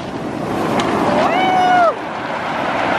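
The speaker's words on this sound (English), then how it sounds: "When the waves come in, you can hear them like go down the pebbles." Big, heavy ocean waves wash over a pebble beach on Hawaii's Big Island as a steady, loud rushing surge. A brief high whistling tone rises over the wash partway through.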